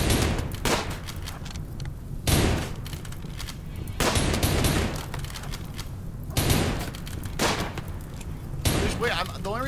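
Repeated bursts of gunfire from the colony sim game Rimworld, set during an arctic freeze, with loud broadband volleys of shots recurring every couple of seconds over a steady background, and a voice speaking at times.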